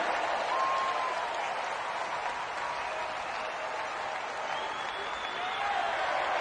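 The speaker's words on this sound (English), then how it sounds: "Even the crowd are giving the slow hand clap, waiting for the decision." A cricket stadium crowd at an England versus South Africa women's T20 match keeps up a steady wash of clapping while awaiting a decision, dense and sustained, with a commentator's voice faintly underneath.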